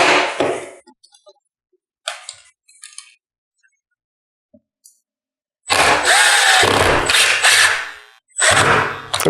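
Power drill driving screws into MDF during CNC table mounting, with short taps and clinks of handling, then a loud sustained whine as a screw goes in, a brief pause and another burst.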